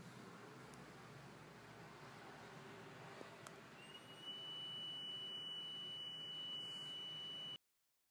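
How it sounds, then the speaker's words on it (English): A steady electronic buzzer tone starts partway through an LC oscillation experiment. It sounds faint and thin and pulses in short on-off beeps above a constant background hiss, then everything cuts out abruptly. "when the frequency equal to the buzzer and the LED light frequency, the buzzer will buzz and the LED will light up"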